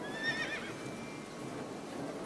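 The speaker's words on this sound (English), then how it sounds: "A horse?" A horse in a video game gives a clear whinny near the start, a brief rising neigh that fades into a quiet background with soft hoof-like clatter.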